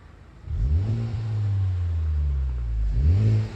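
Honda Civic Type R engine revved through its aftermarket exhaust, two close, loud blips with a deep rumbling drone held between them.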